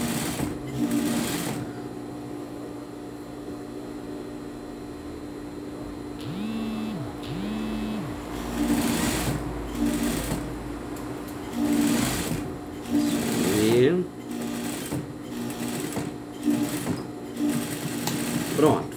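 A sewing machine hems knit fabric in bursts of rapid stitching separated by short pauses, close and fairly loud, with a person talking quietly between runs.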